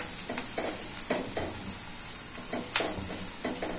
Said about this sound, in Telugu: మంచిగా కలపండి